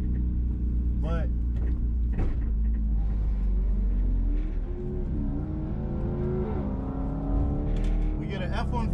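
Engine roar of a Nissan Juke lined up against a Ford F-150 at a mountain drag strip, loud and continuous with rising revs and passing vehicle sweeps, while a person talks over the noise.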